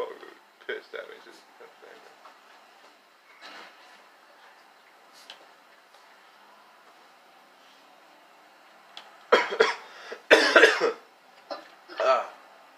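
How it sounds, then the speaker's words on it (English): Several harsh coughs, a couple faint early on, then a loud burst of rough hacking coughs near the end, close by. "That was a terrible cough."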